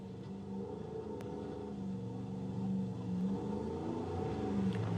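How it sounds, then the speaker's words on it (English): An off-road vehicle's engine hums and revs steadily at close range on a dusty, rocky trail, its drone rising and falling slightly over the rough ground, with no talking. "what I wanted you to see and hear is the engine, how fast we're going"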